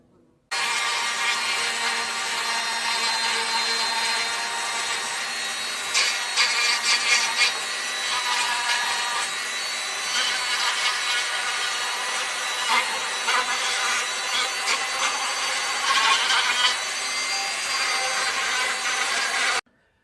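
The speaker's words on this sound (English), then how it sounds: "just go around with a little Dremel, a little sanding burr, and just go and just tidy these edges up" High, whining Dremel with a sanding burr grinding steadily against the edges of a wooden plaque, a continuous buzzy drone with slight rises as it moves along the edge, close and loud.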